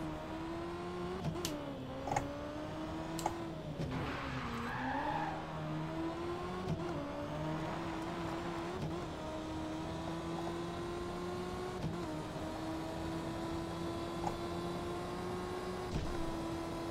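Racing cars in the video game Victory: The Age of Racing, a continuous engine drone that rises and falls in pitch as the cars accelerate and shift, with occasional sharp clicks, no talk.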